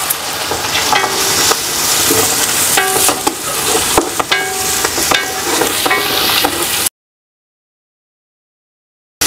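Ginger garlic paste fries in a hot pan with a loud, dense sizzle while a spoon scrapes and clinks as it is stirred, and the sound cuts off abruptly near the end.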